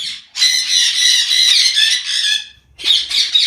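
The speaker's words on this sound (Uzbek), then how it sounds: "Aratinkalar baqirishni boshlasa," Aratinga parakeets squawk loudly and close at a bird breeding farm, giving harsh, shrill, continuous screeching. A short pause falls near the end before another burst of calls.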